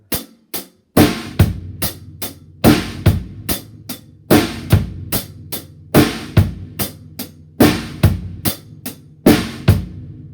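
A drum kit plays a steady eighth-note groove, crisp hi-hat strokes over kick and snare hits in a repeating syncopated pattern, close and loud with no voices.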